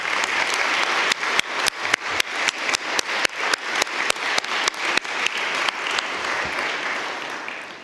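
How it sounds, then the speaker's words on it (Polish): Audience applause at a graduation ceremony for medical and dental graduates, a loud, dense crowd clapping that swells with sharp bursts and then fades near the end. "Bardzo wam serdecznie gratulujemy i poproszę tu o duże brawa"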